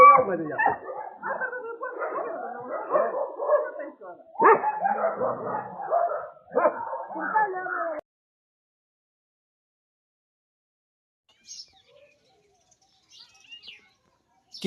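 A dog barks and whimpers in rapid, agitated bursts for several seconds, then near silence with a few faint chirps.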